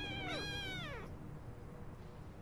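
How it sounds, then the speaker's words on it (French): Lynx kittens in the game Shelter 2 give a short high mew with a falling, harmonic-rich tone, followed by quiet background hum. "Oh, du petit miaou!"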